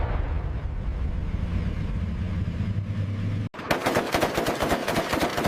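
An Abrams tank firing its weapons during a live fire drill: a long rumbling roar of engine and gunfire, then a sharp break into dense, rapid bursts of automatic fire, loud and close.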